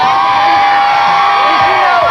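A large crowd cheers and whoops at an outdoor concert in New York in drizzly weather, a steady, dense roar of many voices with a sustained high tone running through it.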